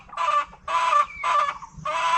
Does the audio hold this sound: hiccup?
no